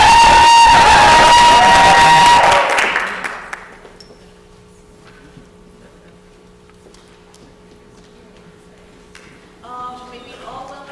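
A gospel show audience cheers and claps loudly for about three seconds, then the noise fades to near silence, leaving only faint ticking and hum before a brief swell of sound near the end.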